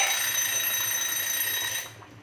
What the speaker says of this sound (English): sorry for the alarm